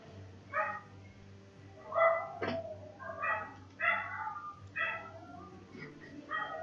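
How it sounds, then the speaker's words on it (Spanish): Dogs bark behind a closed door in a string of muffled, fairly distant yaps and barks that come in bursts about every second, with no talking over them. "donde están los perros. Siempre están ladrando,"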